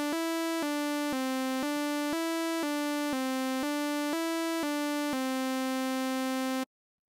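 Simple MIDI melody of evenly spaced quarter notes played in Logic with a bright, buzzy synth tone, about ten notes stepping between a few pitches, clean and alone before stopping abruptly.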